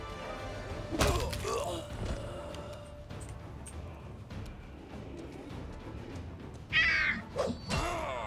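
A cat in the video game Wrath of the Righteous gives a short meowing trill late on, among soft thumps and game sounds, with quiet background activity.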